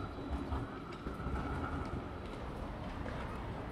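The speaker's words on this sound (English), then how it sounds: "Bergen still has a tramway, or rather a city rail. Here it is departing for Bergen Airport Flesland." A Bergen city light rail tram pulls away toward Flesland airport, a steady low rumble of wheels and motor heard from nearby outdoors with faint street ambience, no talking.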